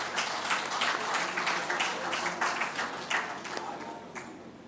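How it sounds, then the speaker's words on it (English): An audience at a university academic opening gives a round of applause, dense moderately loud clapping that carries steadily, then thins and fades toward the end. "I would like us to give her another round of applause"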